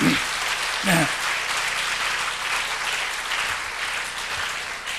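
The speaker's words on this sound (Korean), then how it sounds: "다시 박수로 우리 주님께 영광 돌립니다." A church congregation applauds in steady, dense clapping that fills the whole stretch, loud and close, with a brief voice surfacing near the start.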